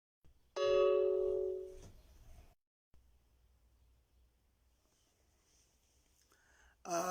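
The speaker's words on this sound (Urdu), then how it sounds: "معذرت یار، بیچ میں گھنٹی بج گئی" A two-tone doorbell chime rings loudly indoors, its tones ringing out and decaying over a couple of seconds, followed by quiet room noise and a short tonal sound at the end.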